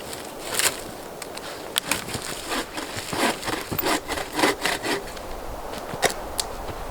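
Dead fallen trees are cut up for firewood at a solo winter campsite, with irregular bursts of sawing and rough rasping strokes against wood, close by and without talk.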